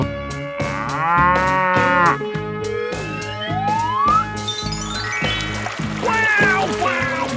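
A cartoon cow moos in a 3D animal slide video game, a long, loud, wavering low moo set against bright, tonal game music and siren-like sweeps.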